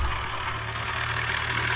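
Swaraj tractor engine in a mobile tractor game idling with a steady low rumble and constant mid-range drone, even and continuous throughout.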